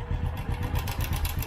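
Brief burst of a motorcycle engine idling with a loose timing chain tensioner, a rapid metallic rattle over the engine hum, close and steady.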